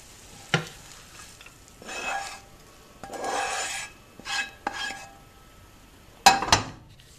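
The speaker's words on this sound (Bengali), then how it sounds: "এখন আমি শ্যামাইটাকে ঢেলে ফেলছি।" Sweet vermicelli (shemai) with condensed milk is poured and scraped out of a hot pan in a few separate bursts of rasping scraping, with a sharp clink of a utensil near the end and quiet gaps between.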